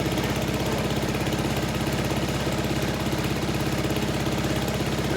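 Snowblower engine running steadily at low idle, a close, loud, even rumble with a rapid regular pulse and no pauses.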